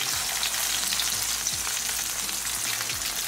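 Chicken chapli kebabs fry in oil in a pan on a medium gas flame, giving a steady, close sizzling hiss with faint crackles and no talking.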